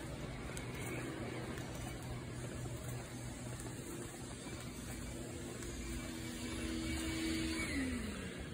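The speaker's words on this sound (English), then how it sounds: "Pre-vacuuming, getting the areas." A vacuum cleaner runs over a floor ahead of floor stripping, a faint steady motor drone with a whine that holds, then drops away near the end.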